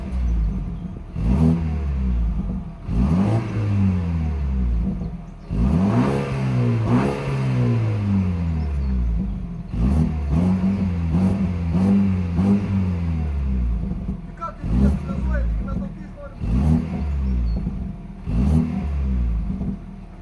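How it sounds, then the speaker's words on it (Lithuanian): A car with its stock exhaust is revved up close, several times in a row. Each rev climbs and drops in pitch, with no talking. "reikia jums parodyti, kaip skamba šitą mašiną su paprastu bakeliu ir tada su sportiniu"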